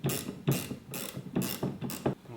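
A ratchet wrench clicks in five quick bursts of pawl ratcheting as it tightens a 1 1/8 inch fitting during interior work on a classic 13-foot Boston Whaler, close and clear with no talk.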